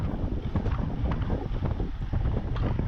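Headwind blows across a cyclist during a road race in Bredene, a constant loud roaring buffet of wind noise with low gusty rumbles throughout.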